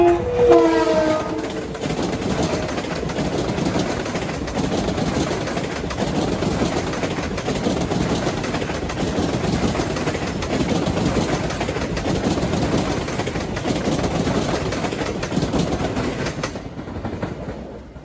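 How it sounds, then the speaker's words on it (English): LIRR commuter train 1203 running from Hicksville to New York rolls past Nassau Tower in Mineola, a loud steady rumble and rail clatter lasting about sixteen seconds with a brief horn at the start, then fading out. "this is train 1203 from Hicksville to New York at 6:37"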